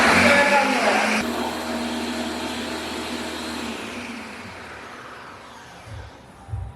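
A blender pureeing garlic and chickpeas for hummus whirs loudly at first, then shifts down to a steadier, fading drone that continues throughout, close by.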